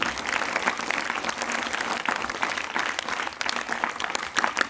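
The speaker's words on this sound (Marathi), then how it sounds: "त्या सर्व बक्षीस प्राप्त मुलांचं परत एकदा जोरात टाळ्या वाजून आपण अभिनंदन करूया" Loud, dense applause from a gathered audience at a school prize-giving ceremony, congratulating prize-winning students, sustained evenly throughout with no pauses.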